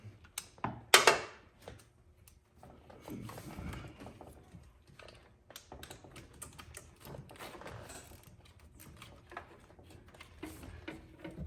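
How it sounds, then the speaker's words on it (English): A socket ratchet on a spark plug in a 5.3 V8 engine gives a quick run of clicks and knocks, then scattered light mechanical ticks and clatter, all faint and close. "go ahead and remove our number 7 spark plug"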